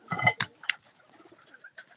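Pigeons give a few short, close calls in quick bursts at the start, then softer scattered coos and chirps trail off over quiet.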